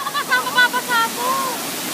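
Kabigan Falls rushes as a steady, broad watery roar beneath people calling out and talking nearby, their voices louder than the falling water.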